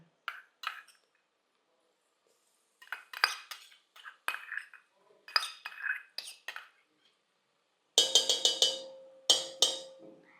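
A metal spoon clinks against a pan while ground masala paste goes in with onions sautéed light pink for masale bhat. Scattered light pings come in short clusters, then a louder run of clanks near the end.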